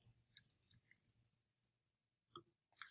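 Light typing on a computer keyboard, a quick burst of soft key clicks followed by a pause, a single tap and a few more clicks, close and quiet.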